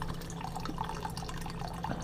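Water trickles and splashes steadily into a kettle, a close, continuous pour with small drips throughout.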